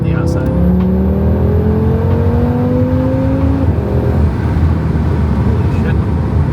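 An Audi RS3 on E85 fuel with a Stage 1 tune and AWE Switchpath exhaust, revving loudly and continuously with rising engine tones and a steady rumble underneath.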